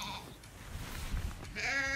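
A short sheep bleat rises out of a dense, noisy background, a single wavering call near the end of the moment, moderately loud.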